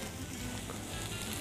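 Food fries in a pan over high heat, a soft, continuous sizzle and crackle heard alone and fairly quiet, with no talking.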